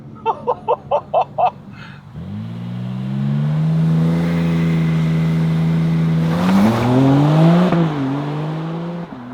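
A BMW M3 CS Touring (2025) launching under launch control: a few sharp revving pulses at the start, then a loud, continuous engine roar climbing steadily in pitch through the gears, close and alone.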